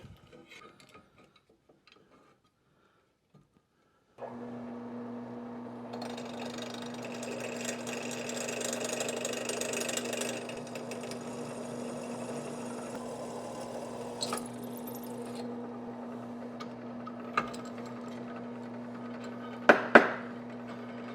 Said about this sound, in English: So now we're going to move over to the drill.